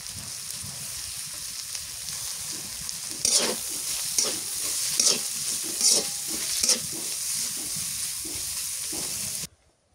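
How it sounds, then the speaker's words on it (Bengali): Chopped onions sizzle steadily in a hot pan for a Bangladeshi fish curry, with several scraping stir strokes marking a loose rhythm partway through before the sound cuts off abruptly. "এবার পেঁয়াজ কুচি দিয়ে দিই"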